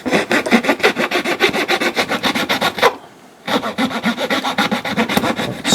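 A Leatherman Rev multi-tool file rasps across wood edges in quick, even back-and-forth strokes, close up, with a brief pause midway before the rhythmic filing resumes.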